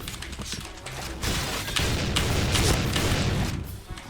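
Heavy shooting at zombies in a first-person shooter game: a dense, unbroken barrage of rapid shots mixed with dull booms, loud and close throughout with no clear gaps.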